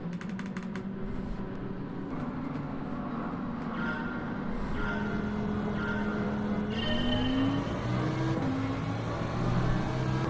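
Lamborghini Huracan race car in Gran Turismo, a steady engine drone that rises and holds through the lap, with brief tire noise, continuous and close throughout.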